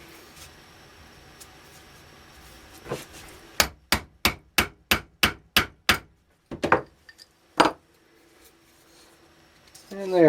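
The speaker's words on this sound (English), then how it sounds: "And then I will just ram my clay bulkhead." A clay bulkhead being rammed into a three-quarter-inch charcoal spark gerb tube: a rapid run of about nine sharp, evenly spaced mallet strikes, then a few scattered knocks, close and loud with no talking over them.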